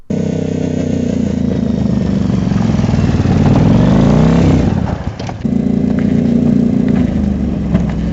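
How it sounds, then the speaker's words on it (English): A motorcycle engine pulling a chariot rumbles loudly nearby, revving up to a rising whine, cutting out briefly, then settling back into a steady idle. "a regular chariot, except the horse is replaced with a motorcycle"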